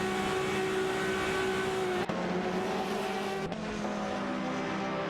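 Race cars in an AI-driven video game race jostle for position, engines droning steadily at high revs with steady tonal whine, a couple of abrupt gear-shift breaks, no voices.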